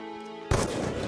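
A single loud gunshot fired through walls in Call of Duty: Black Ops 2, a sharp sudden crack after a steady hum, followed by a short ringing tail.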